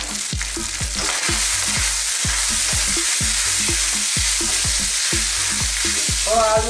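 Garlic fried rice seasoned with black pepper and salt is stirred in a hot pan, a steady loud sizzle broken by regular rhythmic scrapes of the spatula, about two strokes per second, with no talking.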